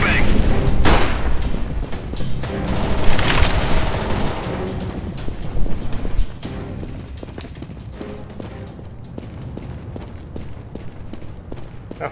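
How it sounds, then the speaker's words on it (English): A flashbang grenade going off in Counter-Strike: Global Offensive, a sharp loud burst up front followed by rattling gunfire and booms that fade to a quieter noisy tail, with no talk over it. "Throwing a flashbang!"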